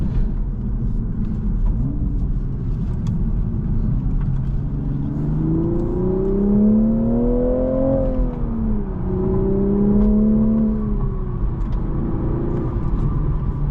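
A 2024 Toyota GR Supra 3.0 with a six-speed manual accelerates on a test drive, heard from inside. The engine drones steadily and climbs in pitch through the gears, with rising revs, a brief dip and a swell, and no talk.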